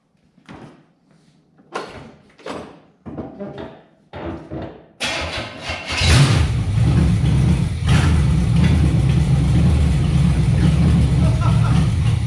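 A Chevrolet Monte Carlo's engine cranks in short bursts, then catches and settles into a loud, steady rumble nearby, with people talking briefly beforehand.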